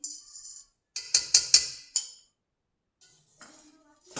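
A utensil clinks against a pot while gravy is stirred, giving a few sharp metallic taps in a quick cluster, then sparse softer scrapes and pauses, close and clear with no talking.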